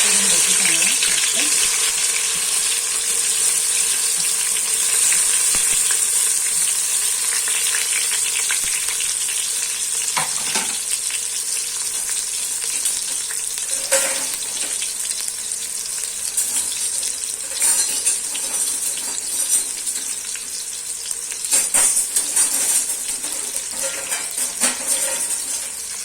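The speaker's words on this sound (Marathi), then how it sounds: "मग तेलात आता ना कांदा फ्राय करून घेते चांगला" Onions fry in hot oil in a home kitchen, browned for chicken biryani. A loud, steady, dense sizzle fills the whole stretch, with faint stirring and clatter underneath.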